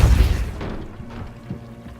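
The Depulso spell is cast in Hogwarts Legacy, a single deep, thumping boom at the start that decays into a soft rumble, with a lighter knock following near the end.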